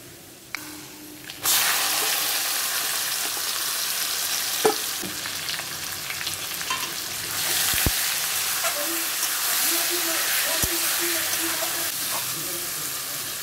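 Meat hits a pan of deep-fried, browned onions for a Bengali kosha mangsho, bursting into a loud, steady sizzle that runs continuously, with a few clinks of stirring over the hiss.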